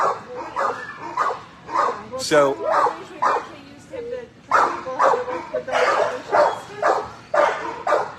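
Gary, a sweet shelter dog once found on the streets of Bakersfield, barks and yips in quick repeated bursts close by while people talk over and between the barks.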